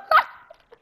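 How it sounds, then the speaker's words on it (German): In Minecraft, a dog gives one sharp, close bark, followed by a couple of faint, brief yips. "Alter, mein Hund hört sich an wie ein Werwolf."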